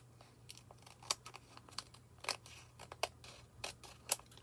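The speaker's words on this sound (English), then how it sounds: "Maybe I should cut it with the scissors." Scissors snipping through paper card while a rose specimen card is trimmed at a craft table, with a series of small, crisp, irregular cuts and faint rustling, close and quiet.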